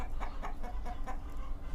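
Chickens cluck in a series of short repeated calls over a steady low background hum, moderately close, with no speech.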